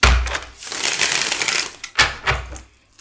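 A deck of tarot cards is shuffled by hand at close range, with a burst of riffling and flicking, a short pause, then a second quicker riffle.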